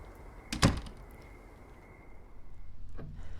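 A door opens in the horror game Song of Horror with one sharp clunk near the start. A thin steady tone follows, then a fainter knock or shuffle near the end. The surroundings are quiet and nobody speaks.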